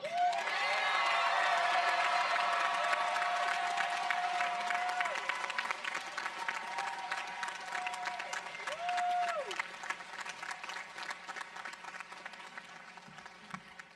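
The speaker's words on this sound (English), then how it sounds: "May I ask for another round of applause, very loud, in celebration of our graduates" A large audience at a College of Fine Arts commencement ceremony claps loudly for its graduates, dense sustained applause that slowly thins toward the end, with a faint tone running beneath it.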